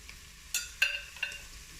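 Pieces of beef for bourguignon browning in a Cookeo multicooker, with a quiet frying hiss broken by a few sharp stirring scrapes and clinks of a utensil against the pot.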